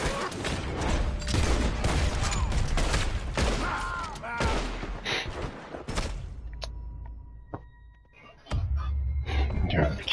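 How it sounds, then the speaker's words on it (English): Rapid video game gunfire, dense bursts of shots and impacts with a clatter of mechanical effects, loud and continuous with brief lulls before a final volley. "What the hell are you shooting me for?"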